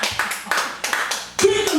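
A handful of people at a Korean prayer-house revival service clap in a slow, uneven rhythm, about five or six separate claps, close and moderately loud, with a faint voice at the end.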